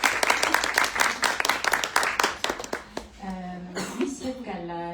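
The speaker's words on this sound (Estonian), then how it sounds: "Aplaus!" Audience applause at a book launch for a fourth novel, a dense burst of clapping that thins out, then a voice begins speaking over the end of it.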